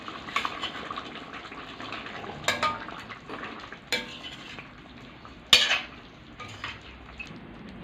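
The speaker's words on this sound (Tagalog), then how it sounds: "isusunod na ho natin guys yung paglagay natin ng beef cubes para mas lumasa ho siya" Beef cubes for beef pares going into a pot and being stirred, with scraping and clinking of a utensil against metal, a faint sizzle, and a few sharper knocks standing out. No one talks.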